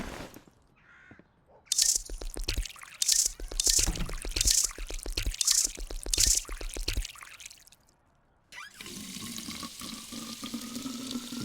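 Water poured onto plants in Drug Dealer Simulator, a steady splashing stream near the end that follows a run of repeated loud crow caws, with no talking.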